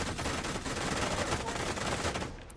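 SMG fire in the video game The Division, a dense continuous rattle of rapid automatic shots heard up close and loud for about two seconds before tapering off.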